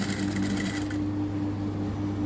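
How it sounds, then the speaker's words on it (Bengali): Sewing machine stitching a seam close to piping, a brief quiet run of rapid mechanical whirring that stops after about a second, leaving a low steady hum. "পাইপিং থেকে এক বিট পরিমাণ দূরে আমি সেলাইটা দিব।"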